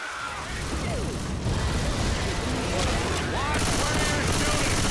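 Gunfire in Left 4 Dead 2 rattles in dense, overlapping bursts across the clip, with shouting voices mixed into the chaotic game action.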